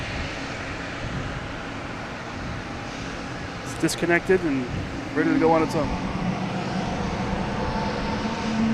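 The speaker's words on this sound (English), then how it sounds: "With the JetBlue here in front of us making all kinds of racket." JetBlue jet airliner engines at Boston Logan Airport give off a steady, rumbling roar nearby, while a person talks over it.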